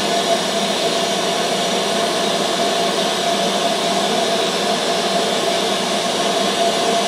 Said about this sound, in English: this just proves that the laser works